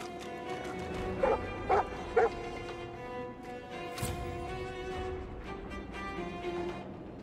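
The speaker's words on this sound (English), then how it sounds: "Those dogs sound out for blood." Dogs bark in a video game in three sharp yips spaced about half a second apart, over a steady background hum, followed by a thud.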